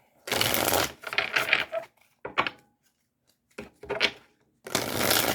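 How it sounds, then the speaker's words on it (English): Tarot cards being shuffled up close: several bursts of rapid riffling and flicking, separated by short pauses. "All right, one more shuffle"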